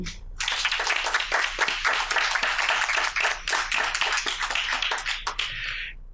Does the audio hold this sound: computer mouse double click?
no